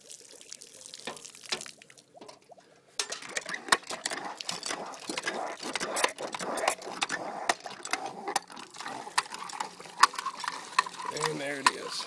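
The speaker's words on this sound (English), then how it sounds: "Let's prime the pump." Water is poured to prime a hand-operated water pump, with splashing, trickling and rattling handle clatter building after a quiet start and continuing steadily at close range.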